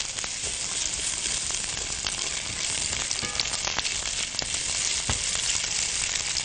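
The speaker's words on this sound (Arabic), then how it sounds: "هنضيفها على الزيت اللي في الطاسة، وهنبدأ ان احنا نشوحها ونخليها تدبل كده" Sliced onion sautéing in hot oil in a frying pan gives a steady, dense close sizzle that runs throughout without pause, with occasional crackles and pops on top.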